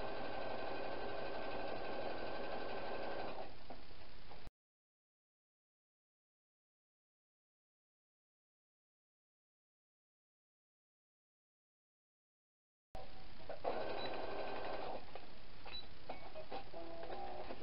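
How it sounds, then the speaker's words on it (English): A sewing machine runs a zigzag stitch across a fabric sleeve hem, a steady close mechanical whir in two stretches separated by a long silent gap. "using the zigzag stitch, I'm just going to stitch all the way across"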